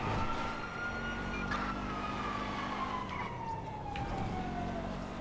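Car engine revving up and accelerating hard during a police chase in GTA 5, a steady loud rumble with a rising tonal whine, police sirens wailing behind it.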